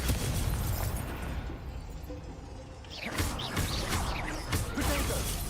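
A Confringo fire spell explodes in the Hogwarts Legacy video game, a loud burst with whooshing and crashing effects that roll on over several seconds of dense game sound.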